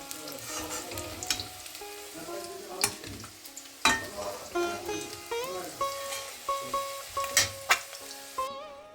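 Eggs and potatoes fry in hot oil in a wok, a close, steady sizzle broken by repeated scraping and stirring strokes of a utensil against the pan.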